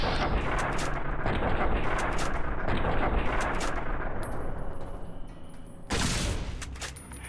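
Gunfire in Fallout: New Vegas, a rapid string of loud, sharp shots in bursts for several seconds, then a pause with a ringing tone before another blast.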